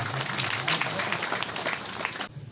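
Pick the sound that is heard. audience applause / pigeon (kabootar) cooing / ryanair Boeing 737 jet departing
audience applause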